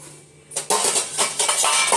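Steel kitchen utensils clatter and clink together in a home kitchen, a sudden burst of close metallic rattling after a short quiet start, continuing unevenly for over a second.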